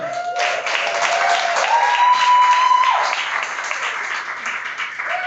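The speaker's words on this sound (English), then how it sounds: "please give a warm round of applause for Sara Graham." Audience applause fills a stand-up comedy room as a comedian is introduced, a steady, loud wash of clapping with a tonal whistle-like sound over it, fading slightly toward the end.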